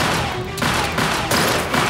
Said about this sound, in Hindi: चलो गोलियां चलाओ